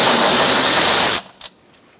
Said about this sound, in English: So now we're going to take out our bolts on the top.